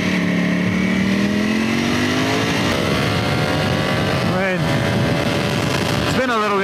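A 2020 Ducati Panigale V4 S howls loudly on a wet racing circuit, its engine pitch climbing steadily through the gears with sharp up-shifts near the end. A rider talks over it.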